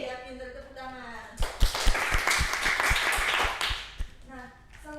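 Classroom applause during a teaching session: a burst of group clapping, fairly loud, rising suddenly after a teacher's speech and lasting about two and a half seconds before talking resumes.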